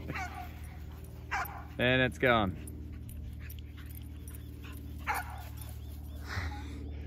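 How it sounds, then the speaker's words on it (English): Several excited dogs, including a Boxer and a Cavoodle, bark and whimper near a lure course, with a short burst of barks standing out among scattered yips, while someone talks briefly over them. "All the dogs are still excited. They're running around in circles behind you."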